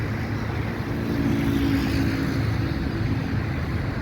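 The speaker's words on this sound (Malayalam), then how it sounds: "ഒരു ബോട്ട് പോകുന്നുണ്ട് ആൾക്കാരെ കൊണ്ട് പോകുന്നതാണ്" A low, steady engine drone of a passenger boat moving on the water in Dubai, constant and fairly loud throughout with no voices.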